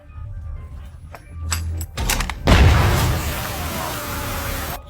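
A sudden deep blast of planted explosives bursts out underground, followed by a sustained rumbling roar of debris and noise that lingers for a couple of seconds.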